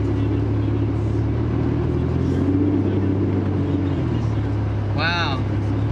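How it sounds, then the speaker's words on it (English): A car engine runs at a steady idle with a newly fitted fan clutch, the radiator fan adding a continuous whooshing roar over the low engine hum, and a brief chirping sound near the end. "You can hear that fan now."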